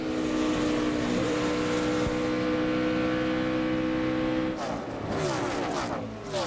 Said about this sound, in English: Yeah, that car doesn't sound too good.